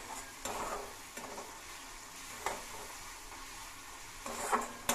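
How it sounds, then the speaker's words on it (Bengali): Spice masala with turmeric and salt frying in a pan for a katla fish dish, a continuous sizzle broken by several bursts of stirring and scraping, close and fairly loud. "স্বাদ মতো লবণ দিয়ে আমি মশলাটাকে একটু ভালো করে ভেজে নিলাম।"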